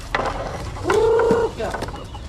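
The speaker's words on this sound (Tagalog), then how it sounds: "Manok ni Paring Kanoy ho." Chickens of a native breed kept in a rural yard, with one loud, drawn-out fowl call near the middle and scattered short clucks and squawks around it against background noise.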